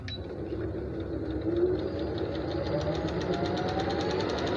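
A domestic sewing machine stitching with its stitch length set shorter, giving a steady, even mechanical whir with fast rhythmic ticking that runs close and unbroken throughout, with no voices.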